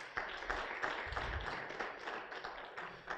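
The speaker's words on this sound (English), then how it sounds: "One round of applause for the colleagues" Applause from a conference audience at an African conference: steady, dense clapping from many hands, moderately distant and sustained throughout.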